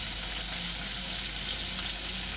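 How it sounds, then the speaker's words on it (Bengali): Koi fish frying in hot mustard oil in a wok, a steady hissing sizzle at moderate to soft level, continuous and unbroken with no talk over it. "মাছগুলো আমি কড়াই দিয়ে দিয়েছি"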